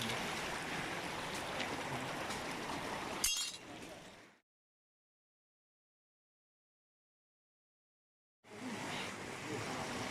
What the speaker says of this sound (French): Il y a de la cascade.